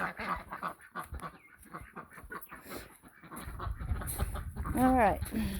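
A loose backyard chicken clucks in short, repeated bursts near the microphone, with fowl calls rising toward the end, while a person talks over part of it.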